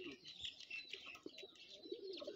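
Rajshahi Giribaz pigeons at a loft give soft, faint coos and chirps in short bursts, with people talking nearby.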